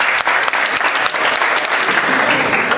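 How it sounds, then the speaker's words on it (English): Audience at a debate on masculinity applauding in agreement with a motion, a dense, steady wash of many hands clapping loudly and continuously throughout. "Okay, that was a long and steady applause."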